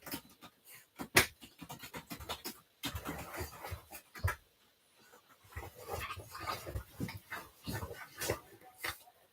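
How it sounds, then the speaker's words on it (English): Excited dogs pant rapidly and whimper close by in a quiet room, with scattered thumps and shuffling between bursts of heavy breathing. "my dogs got excited now. They're making a lot of mess over there."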